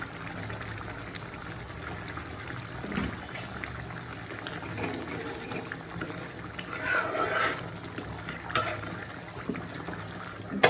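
Sliced onion and green chillies fry in a pan for a Bangladeshi tilapia fish bhuna curry, giving a steady low sizzle with occasional stirring scrapes and bubbling, fairly quiet and continuous with no talking.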